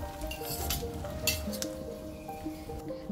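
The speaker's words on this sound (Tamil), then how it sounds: "இப்போ இதில் வந்து நம்ம உதிரி உதிரியாக வடித்து வச்சுருக்க சாதம் சேர்த்துடலாம்" Cooked, separated grains of rice stirred into a curry leaf tempering fried in a pan, a soft background sizzle with light clinks and scrapes of a spoon against the pan, with no talk.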